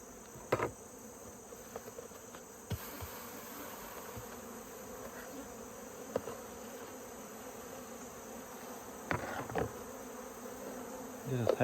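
Honeybees hum in a steady, close drone around an open hive during a mite check, with occasional clicks and knocks of hive handling on top and no talking.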